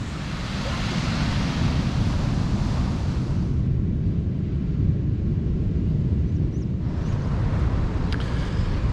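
Ocean waves and swell roll in steadily near a campsite on a stormy day, a broad continuous roar mixed with strong gusting wind buffeting the microphone, with no voices.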